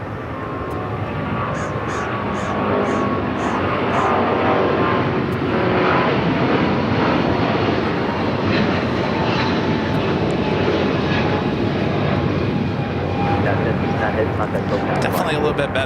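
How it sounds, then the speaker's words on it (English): ANA airliner taxiing at Los Angeles LAX, a steady broadband engine roar and whine holding throughout, with people talking over it. "ANA continuing it, taxiing down to 25 right."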